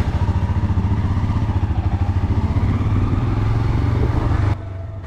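A motorcycle carrying two riders on a road, its engine droning steadily and loud with a rhythmic pulsing throb and wind rumble, cutting to quieter engine noise near the end.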